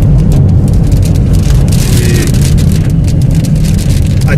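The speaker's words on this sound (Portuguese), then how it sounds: "a gente avistou aqui que está chovendo e já começou" Heavy rain pounding on a road and vehicle while driving in northern Piauí, Brazil, a loud, dense, continuous hiss and patter over the low rumble of the moving car, steady from start to finish.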